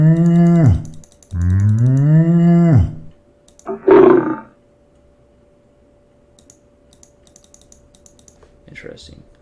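Cow moo sound effect playing in a Construct 3 game, two long, loud, sweeping moos in the first three seconds followed by a brief burst of noise, then near silence with faint clicks.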